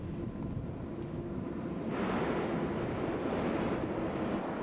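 A subway train rumbles along steadily, its low roar swelling a little louder partway through, heard from a quiet distance with no one speaking.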